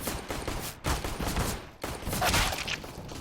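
Continuous gunfire in a Counter-Strike pistol round on Dust2, shots clustered densely with two sharp breaks, loud and close throughout with no talk.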